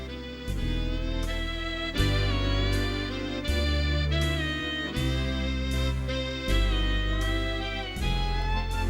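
A band plays with the glide pulled to bend the pitch deliberately out of tune. Sustained chords shift every second or so over a heavy, loud low end.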